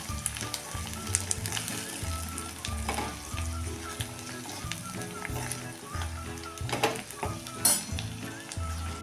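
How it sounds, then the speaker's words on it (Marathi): Coarsely ground spice masala sizzles and fries in a pan for an instant garlic pickle, with uneven crackling and repeated scraping stirs of a utensil against the pan, close up and without speech. "आता हा भरड केलेला मसाला टाकून घेऊया मसाला टाकून पण चांगलं परतून घ्या"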